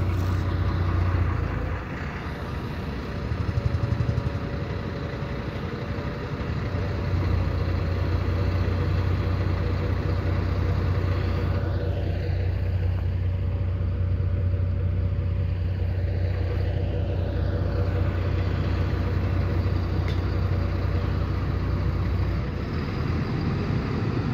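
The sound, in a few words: LEB train 414 engine started and idling in the snowy depot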